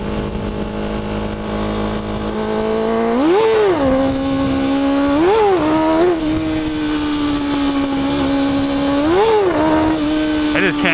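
A motorcycle engine revving hard around 6,000 RPM during a second-gear wheelie attempt uphill: a steady close drone with three or four sharp rises in pitch as the throttle is blipped, loud throughout.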